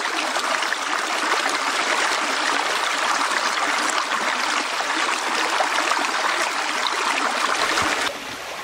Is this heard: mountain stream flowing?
yes